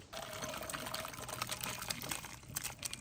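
Cooked spicy village-style desi chicken curry pours out of a pot, a thick wet slosh and trickle running steadily close by for a few seconds.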